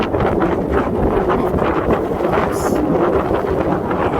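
Steady wind buffets the microphone aboard a sailboat near the Port-Louis marina, a continuous loud rushing roar with water and hull noise beneath, no pauses throughout.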